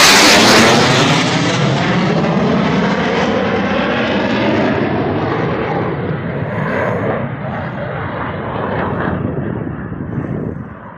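A Sukhoi Su-25 jet roars loudly overhead, a broad rushing engine noise that starts strong and slowly fades as it moves away.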